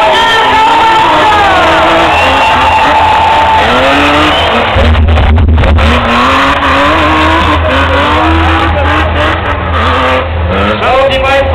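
Monster truck driving in a Monster Jam arena show in Chorzów, its loud engine revving and roaring steadily with tire noise and crowd sound, under continuous excited announcer commentary over a PA.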